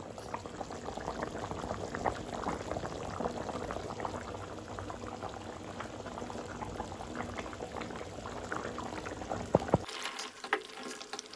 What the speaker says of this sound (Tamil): ஆஃப் அன் ஹவர் நல்லா கொதிக்க விடலாம்